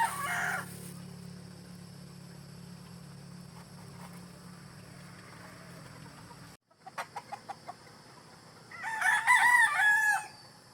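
Farmyard chickens cluck in short bursts at evening near a hut, then a rooster crows loudly near the end over a faint steady background hum.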